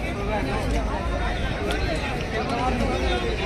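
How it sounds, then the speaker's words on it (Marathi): Packed buffalo market crowd in Nanded, with constant babble of many people and scattered clicks and knocks over a steady, even hubbub. "आज नांदेडच्या बाजारात खूप गर्दी आहे."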